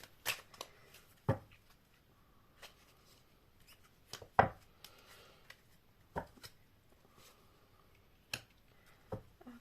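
Tarot cards being shuffled by hand in a quiet room, giving repeated sharp riffling bursts and soft slaps at irregular intervals, fairly close with no talking.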